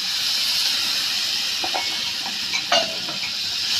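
Crushed garlic and a splash of water go into a sizzling tomato and onion masala for Gujarati dal, producing a continuous close hiss and sizzle with a few brief stirring clicks.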